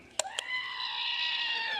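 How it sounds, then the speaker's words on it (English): A screaming goat button toy lets out a long, sustained bleating scream after two short clicks, fairly loud and alone. "It's the screaming goat button."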